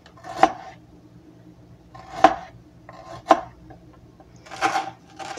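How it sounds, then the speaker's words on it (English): A teaspoon scraping the skin off a knob of ginger in four separate rasping strokes, close and fairly loud, with quiet pauses between them. "grab a teaspoon and just get the skin off of the ginger with that"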